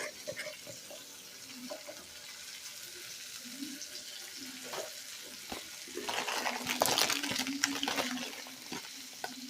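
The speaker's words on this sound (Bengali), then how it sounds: "এই যে এক চিমটি গোটা জিরে ফোড়ন দিয়ে দিলাম" A pinch of whole cumin seeds tempers in two to three spoons of hot oil, a faint crackle and sizzle with occasional utensil clinks that grows louder and busier toward the end.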